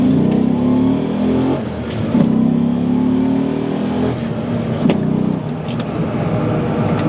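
A Ram SRT10 pickup truck's engine revs loudly and close by, a deep throaty rumble that rises and falls through several throttle blips with a steady idle growl between them.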